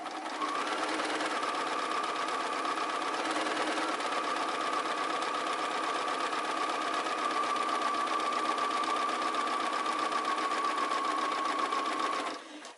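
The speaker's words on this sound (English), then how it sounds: "As you're sewing the curve of the pockets, make sure that you go slow" A sewing machine runs continuously for about twelve seconds while sewing the curve of garment pockets, a steady close whirring hum with dense rapid stitching ticks and no talking.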